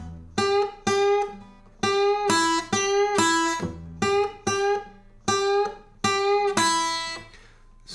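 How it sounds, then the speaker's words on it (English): A close guitar repeatedly plays short bent notes, each pushed upward and then abruptly choked off by the right hand mid-bend, in a steady series with no talking. "one way you can make that sound is to start the bend and then cut it off"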